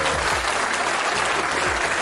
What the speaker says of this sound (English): Give that sister another round of applause.